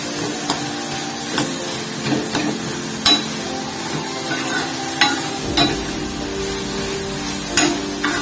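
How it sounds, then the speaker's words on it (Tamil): Ghee sizzling steadily as spices are tempered and fried for pongal, a continuous crackling hiss broken by scattered sharp pops and light utensil taps, close and with no voices. "நெய்யில தாளிச்சதுனால கமன்னு நல்லா வாசனையா இருக்கு."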